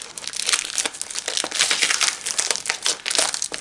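Paper packaging around a roll of elephant hide paper crinkles and crunches during unboxing, loud, close, continuous rustling in uneven bursts with no voices.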